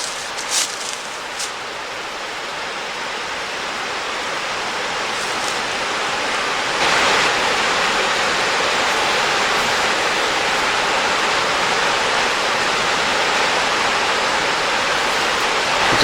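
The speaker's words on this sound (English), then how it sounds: "Just down there where there's little waterfalls" A creek with small waterfalls and cascades, a loud, continuous rushing roar of falling water, steady and close, growing slightly louder partway through.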